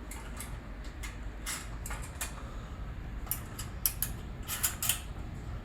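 Serrated nuts are screwed finger tight onto a metal double-door access panel frame, giving soft, irregular clicks and small scraping ticks close by, over quiet room noise.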